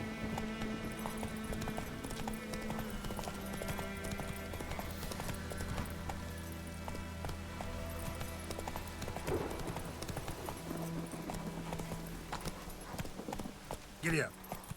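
Horse hooves clip-clop steadily at a ride in The Witcher 3 video game, a continuous rhythmic clatter with a whinny near the end and speech heard in places.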